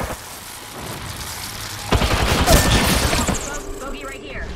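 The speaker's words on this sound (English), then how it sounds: "Opening fire." Gunfire in a military shooter video game, a dense burst of rapid shots in the middle with a steady background din before and after, fairly loud.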